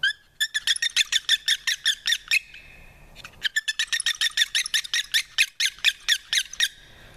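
A Mock Outdoors turkey call is worked with hard hand pressure on the blade. It gives loud, close runs of sharp, raspy high yelps in quick rhythm, two long bursts split by a short pause, with no voices.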